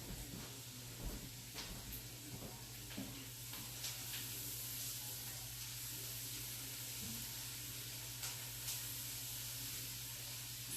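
Onions, garlic and chipotle peppers sizzle in a pan while pozole rojo cooks, a continuous soft crackling hiss with a few louder spits, heard up close and alone under a low steady hum.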